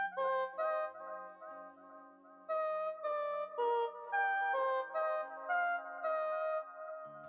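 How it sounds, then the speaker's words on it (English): A sampler fires off chopped vocal snippets in a prog-style track, short pitched sung syllables bouncing in a choppy, stuttering rhythm over a sustained synth bed, clear and upfront. "Then there is a sampler that plays vocal chops"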